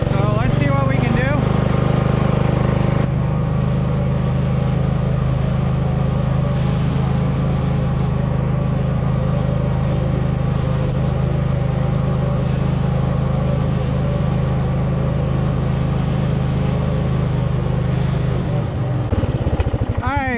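An off-road truck with added bump stops drives in third gear over rough terrain. Its engine drones loud and steady close by for about twenty seconds, then fades slightly near the end.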